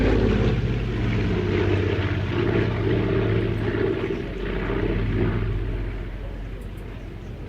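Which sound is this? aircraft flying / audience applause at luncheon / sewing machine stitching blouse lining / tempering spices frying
aircraft flying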